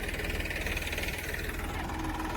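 A tractor engine runs close by while ploughing a farm field, a loud steady mid-range rumble with a dense knocking pulse throughout, and no talking over it.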